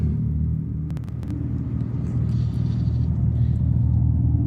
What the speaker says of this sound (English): there's something about an electric car just making a big noise for no reason